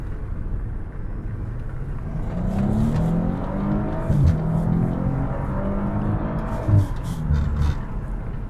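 A Maserati Ghibli S Q4 in sport mode accelerating hard, its engine note rising steadily and holding near and loud for several seconds, with no talk over it.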